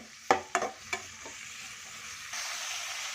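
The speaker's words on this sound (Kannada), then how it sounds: "ಹಸಿಮೆಣಸಿನ್ಕಾಯಿ ಎಣ್ಣೆಲೆ ಸ್ವಲ್ಪ ಅದು ಫ್ರೈ ಆಗಲಿ" Green chillies dropped into hot oil for masala uppittu give a few sharp crackling pops, then a steady soft sizzle fills the rest of the moment, close up with no voices.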